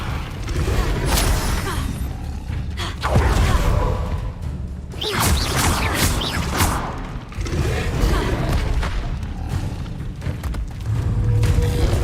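Spell effects in Hogwarts Legacy gameplay: loud whooshes, booms and thuds burst out in quick succession against a dense, continuous game soundtrack, with little sign of talking.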